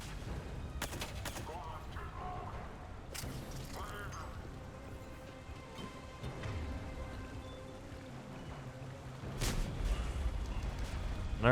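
Gunfire from the video game Mass Effect 3, with several sharp shots and bursts scattered over a dense bed of game effects and music, with a louder burst near the end.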